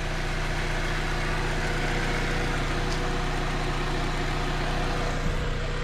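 A 2007 Saab 9-3 convertible engine idles smoothly and evenly, a steady close-up hum with a low rumble that holds without a break, and no voices.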